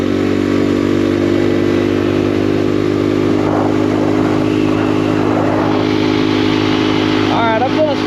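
A Honda Trail 125 (CT125) motorcycle running hard on an open road, its engine a loud, steady drone heard close from the rider's position with wind rush throughout and a brief tonal whine near the end.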